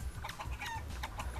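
Chickens cluck in the top-down game Realm of the Mad God, a steady run of short overlapping clucks at moderate level with no talking.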